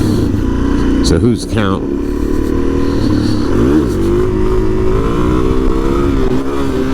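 A supermoto dirt bike on a beach roars close by, its engine revving up and down with rising and falling pitch during a small break-in wheelie, while a rider talks over wind noise.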